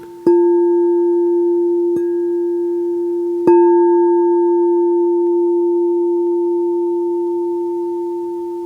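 A metal singing bowl rings with a pure, sustained hum, struck three times in slow succession, each tone lingering and slowly fading, close and loud.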